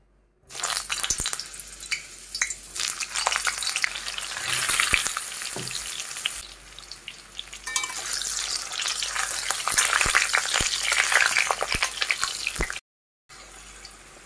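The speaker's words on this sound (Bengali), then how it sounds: "কড়াইয়ের মধ্যে এবার আমি সর্ষের তেল দিয়ে আলুটাকে ভেজে নেব।" Potatoes fry in mustard oil in a kadai with a loud, dense sizzle and crackle that surges and ebbs as they are stirred, ending abruptly near the close; no one speaks.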